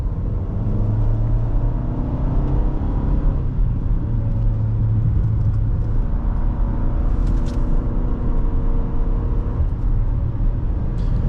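A 2017 Nissan Rogue SV SUV on the move, heard from inside as a constant low engine and road rumble that stays even and steady throughout, with no talking.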